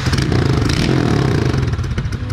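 A Honda XRE 190 motorcycle running with a straight, unbaffled exhaust pipe: a loud, close, raspy engine note that stays steady and rumbling, with a slight rev and no voices.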